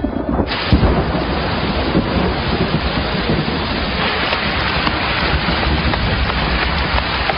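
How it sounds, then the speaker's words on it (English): Heavy rain from a cloudburst pours down in a dense, steady roar close by, with a low rumble of thunder and faint wind noise, no voices. "the cloudburst after he'd gone had us scampering for cover"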